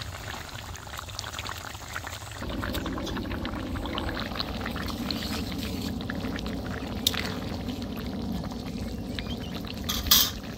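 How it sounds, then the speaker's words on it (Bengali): Small puti fish go one at a time into a pot of boiling water, giving a steady bubbling simmer with soft splashes and light clinks of utensils against the pot, close and moderately quiet. "এই পর্যায়ে এখন আমি পুঁটি মাছ দিয়ে দিব। এরকম করে একটা একটা করে মাছ আমি দিয়ে দিব।"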